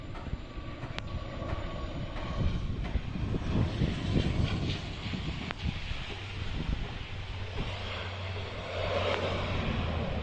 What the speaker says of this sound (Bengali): বিমান বাংলাদেশ এয়ারলাইন্সের ড্যাশ এইট ফোর হান্ড্রেড মডেলের এই বিমানটি সিলেট থেকে উড়ে এসে ঢাকায় অবতরণের জন্য এগিয়ে আসছে